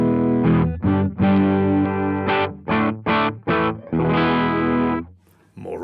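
A 1981 Ibanez AS100 hollow-body guitar with stock humbuckers, played clean without a distortion pedal: a run of short rhythmic chord stabs, then a longer ringing chord that stops abruptly, loud and close.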